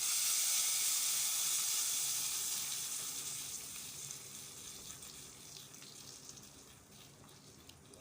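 Close, steady sizzling of spices tempering in hot oil for a yellow pumpkin puli kuzhambu, loud at first and gradually fading to a softer hiss.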